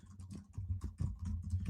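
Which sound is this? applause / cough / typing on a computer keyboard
typing on a computer keyboard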